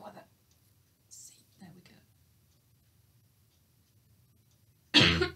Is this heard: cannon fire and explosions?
no